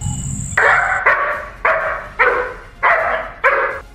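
A guard dog barks at intruders: six loud, close barks in an even rhythm, preceded by a brief high tone and a low rumble.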